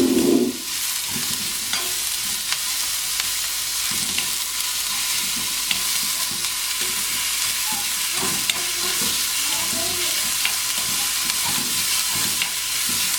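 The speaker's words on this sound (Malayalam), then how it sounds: "നമ്മൾ സവാള ഇട്ടു. അതൊന്ന് നന്നായിട്ട് എണ്ണയിലൊന്ന് നന്നായിട്ട് വാടണം സവാള." Sliced onions sizzle steadily in hot oil for a Kerala-style chicken keema filling, with a broad continuous fry hiss and repeated soft scrapes of a spatula stirring through the pan, close and fairly loud, with no talking.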